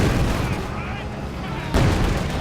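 Machine gun fire crackles through a busy Company of Heroes 2 battle, a dense, continuous rumble of shots and explosions that swells near the end, with a caster's voice partly mixed in.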